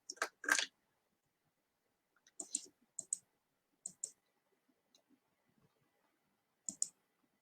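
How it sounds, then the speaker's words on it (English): Clicks from typing in an online chat box on a computer keyboard, heard as a few short close bursts of keystrokes separated by quiet gaps, with no talking. "Let me see if I could type something in the chat box here."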